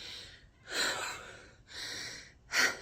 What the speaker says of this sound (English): I'm having a lot of trouble breathing because the heartburn